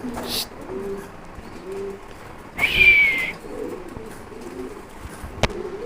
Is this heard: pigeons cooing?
yes